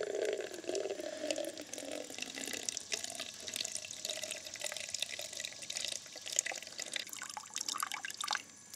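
Water splashes and trickles steadily from a ram pump's output fitted with a water hammer arrestor, with gurgling and dripping, close by and fairly quiet, continuous throughout.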